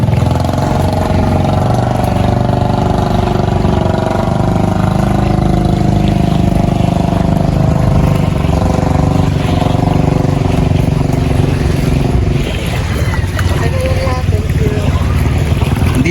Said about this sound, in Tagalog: Sasakay na kami with bangka